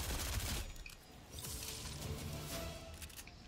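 Gunfire in the Fortnite video game, a dense burst of rapid shots running nearly continuously and loudly, with one brief dip partway through before the firing resumes.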